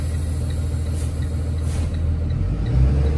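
A 2018 Thomas Transit-Liner C2 school bus engine rumbles low and steady from inside the cab, swelling slightly louder toward the end as the bus is put into drive.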